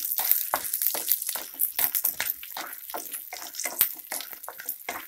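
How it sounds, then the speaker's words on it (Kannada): Chopped green chillies fry in a pan for coriander leaf chutney, giving an irregular crackling sizzle with sharp bursts and spits, close and fairly loud, with no talking. "ಇದು ಸ್ವಲ್ಪ ಫ್ರೈ ಮಾಡ್ಕೊಬೇಕು"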